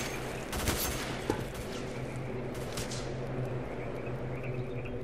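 Enemy gunfire in S.T.A.L.K.E.R.: Call of Pripyat, Misery mod, comes as a few sharp, fairly distant shots early on over a steady humming background.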